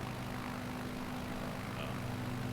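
A Piper propeller airplane engine in Microsoft Flight Simulator 2020 drones steadily and faintly, a constant low hum with no change in pitch.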